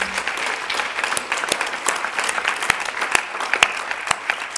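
An audience at a French design and craft festival gives steady applause, a dense patter of many hands clapping at moderate volume without a break.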